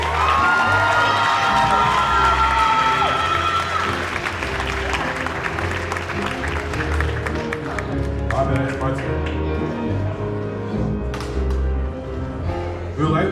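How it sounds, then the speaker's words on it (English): A school crowd at a high school Black History program claps and cheers loudly, with shouts and whoops from young voices over dense applause and some chatter, easing slightly toward the end. "Another round of applause, please."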